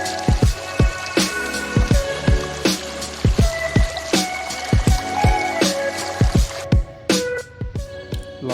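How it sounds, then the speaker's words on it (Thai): A cold mountain stream beside a roadside stop near a hilltop campsite, with water trickling and dripping steadily in close, bright splashes and a continuous babble, no voices. "เป็นลำธารนะครับเย็นเย็นมากครับตอนนี้"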